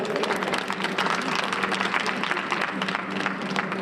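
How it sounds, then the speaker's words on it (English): Audience at a youth summit claps in a dense, continuous round of applause with crowd murmur underneath, fairly even in loudness throughout. "Y'all gonna clap for that right there."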